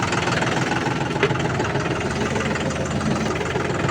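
A John Deere 5210 Gear Pro or Farmtrac 60 Power Max T20 tractor engine idles steadily and evenly, close and loud, a continuous low mechanical drone with no changes in pace.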